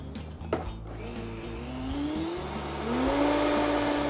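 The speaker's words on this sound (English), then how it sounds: "That goes in the blender." A blender whirs up cream, buttermilk, agar-agar, lecithin and xanthan gum, its motor droning steadily and rising in pitch as it spins faster, close and loud with no speech.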